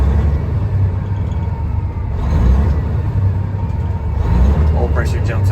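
A 2017 Peterbilt 389 glider daycab truck engine revs smoothly up through the RPMs, a steady deep rumble with rising and falling swells, running close and loud on its own.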